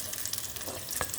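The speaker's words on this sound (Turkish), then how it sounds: "Sadece şöyle hızlı karıştırıp sote olmasını bekliyorum." Eggplant is stirred and sautéed in meat broth in a pan. It gives a soft steady sizzle with light scraping stirs, faint and close, and no one speaks.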